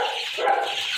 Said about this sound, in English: Now these dogs are creating noise for my birds